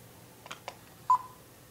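A universal remote learning a signal gives a short clear electronic beep after two faint clicks, close and quiet in a still room.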